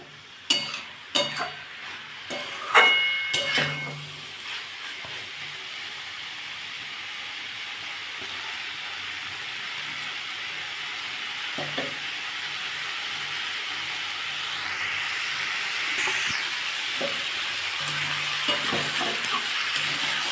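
Potato and broccoli fry in a pan on a gas flame, a continuous hissing sizzle that grows fuller over time, with a few clanks of a utensil near the start and occasional soft scrapes; nobody speaks.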